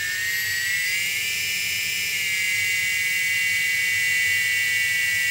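The electric motor of a radio-controlled model is revved up, a high steady whine that climbs in pitch, holds and stays loud and close throughout, with a faint low hum beneath.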